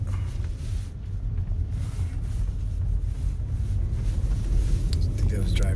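Car driving along a road through the Pecos River Valley, with a steady low engine and road rumble plus wind buffeting throughout, and a voice talking over it.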